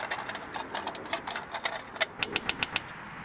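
Torque wrench tightening lug bolts on a Grand Am SCT to spec, a run of ratcheting clicks followed by five crisp, evenly spaced clicks close to the microphone.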